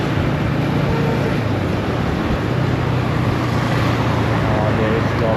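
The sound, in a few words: road traffic noise heard while riding a Yamaha R15 V3 motorcycle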